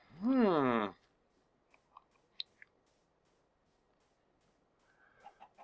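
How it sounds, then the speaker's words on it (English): A chicken in the Minecraft video game gives one loud, warbling cluck at the start, followed by a few faint, scattered clicks and near silence, with no voices. "Oh, shut up,"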